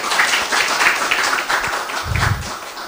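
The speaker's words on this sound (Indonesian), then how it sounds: "Kita kasih tepuk tangan buat beliau." Audience applause at a business talk, a dense burst of many hands clapping at moderate distance, with a brief low murmur near the end.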